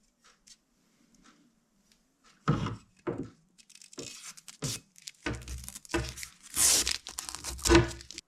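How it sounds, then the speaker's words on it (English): Masking tape is peeled off a handmade wooden bow in short bursts. The crackly tearing and crinkling come close and fairly quiet, with a few soft knocks between pulls and nobody talking. "Now we can remove the masking tape."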